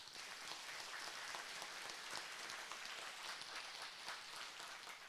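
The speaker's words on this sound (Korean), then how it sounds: "우리 그분들한테 큰 박수 한번 부탁합니다" Audience at a Buddhist all-night practice ceremony gives a long, steady round of applause, a dense, even crackle of many hands clapping, quiet and distant.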